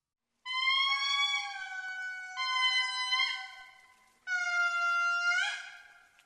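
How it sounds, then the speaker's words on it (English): Three long, wailing tonal calls from an indri lemur, each sliding and wavering in pitch, sounding eerie and foghorn-like, with short pauses between them and no other noise. "making this foghorn sound, which sounds like this."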